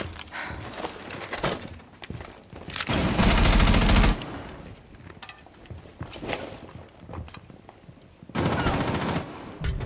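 Bursts of automatic gunfire in Rainbow Six Siege, with two loud sustained volleys and scattered shots between them, some near and some farther off, over faint game ambience.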